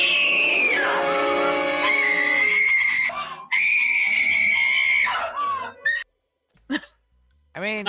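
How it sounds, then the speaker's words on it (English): A woman's full-throated scream from a horror film, loud and sustained with a wavering pitch, breaking off and returning in a second long wail, followed by shorter sharp shrieks amid brief silences. "women full-throated screaming, that might be a bit much"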